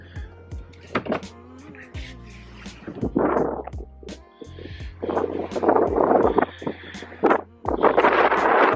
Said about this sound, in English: It's kind of windy right now. The wind came out of nowhere.